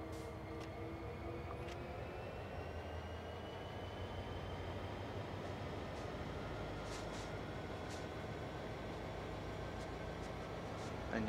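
A locomotive stretching a long coupled train in the video game Train Sim World 2, a steady low rumble of engine and rolling cars with faint metallic squeals and clanks, quiet and continuous throughout.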